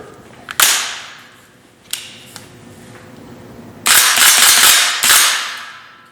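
An upgraded airsoft rifle with a steel carrier, A-type buffer and 2022 motor fires sharp snappy shots: a few single cracks, then two louder bursts near the end, close and alone.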